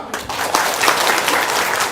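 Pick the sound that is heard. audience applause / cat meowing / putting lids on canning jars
audience applause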